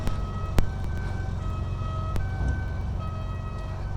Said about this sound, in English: You can probably hear the sound of the sirens behind us.